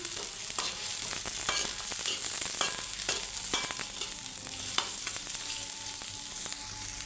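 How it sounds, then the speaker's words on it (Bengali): Garlic, green chilies and onion fry in hot oil, giving a steady close sizzle with small crackles and pops and occasional stirring scrapes, with no talking. "রসুন, কাঁচামরিচ, পেঁয়াজ ভালোভাবে এটাকে ভেজে নিই।"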